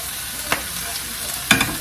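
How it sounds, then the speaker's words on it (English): Dry rice grains roast in a pan, giving a soft continuous sizzle with a couple of brief scraping stirs. "I'm just roasting about this amount of rice."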